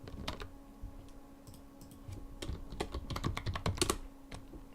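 Quick, irregular typing on a computer keyboard, bursts of light clicky keystrokes close by and fairly quiet, with short pauses between flurries and no talking.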